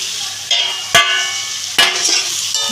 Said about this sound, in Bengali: এবারে আমি মশলার সাথে মাথাগুলোকে ভালো করে কষিয়ে নেব।